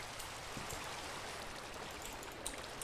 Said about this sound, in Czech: A prší.